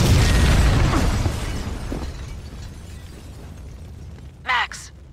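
A building packed with explosives blows up in the video game Max Payne 2: a loud, rumbling blast fills the opening second and then fades into a long, dwindling roar, and a short voice breaks in near the end.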